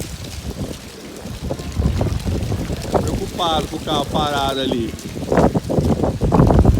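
Strong wind roars steadily during a dust storm in Ribeirão Preto, a constant rushing gust noise with a person talking in Portuguese over it.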